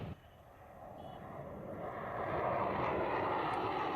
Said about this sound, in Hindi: मिराज, सुखोई, हरक्यूलिस, आप जानते हैं खूबियों से लबरेज ये विमान